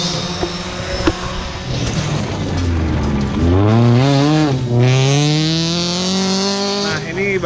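A rally car roars past on special stage SS6, engine rising from a distant whine to a loud close pass with sweeping pitch and gear changes, then fading away.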